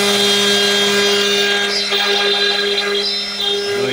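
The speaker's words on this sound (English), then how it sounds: "we'll turn our spindle on. And very carefully, we'll plunge into the material at this setting, and we'll just move our gantry" A Baileigh WR-32 CNC wood router's spindle whines steadily with strong tonal hums while plunging into wood, a loud close drone with faint rasping as the cut starts.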